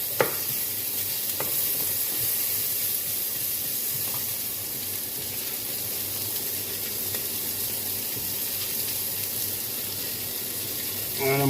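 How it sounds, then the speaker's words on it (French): Onions fry in a pan and are stirred, a steady sizzle holding at an even level throughout with a few faint scrapes and clicks of the utensil. "Ça fait bien revenir les oignons."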